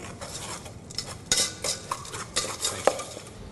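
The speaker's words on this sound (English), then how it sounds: "then we'll just whisk it to combine" A whisk scrapes and taps steadily in a bowl, blending sugar with powdered glucose sorbet stabilizer for a lemon sorbet, with light irregular clinks close by and no talking.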